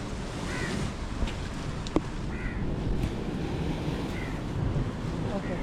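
Cyclone-driven high surf pounds against a sea pillar on the coast, a steady roaring wash of waves heard alongside gusting wind on the microphone, with one sharp splash partway through.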